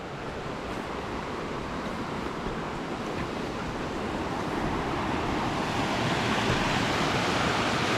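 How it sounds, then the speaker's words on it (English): Full snowmelt creek in the Emigrant Wilderness rushing steadily, a loud continuous broadband roar of water close by that swells slightly toward the end, with no voices. "Creek is pretty full."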